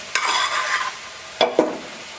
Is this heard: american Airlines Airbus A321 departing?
no